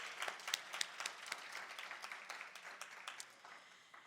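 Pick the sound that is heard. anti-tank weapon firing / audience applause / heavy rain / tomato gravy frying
audience applause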